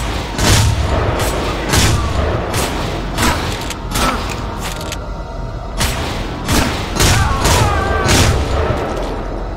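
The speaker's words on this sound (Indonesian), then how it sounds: "Ini mah jadi tembak-tembakan coy." Loud gunfire from the video game Manhunt 2: repeated bursts of shots and booming blasts in an irregular rhythm, like a running shootout.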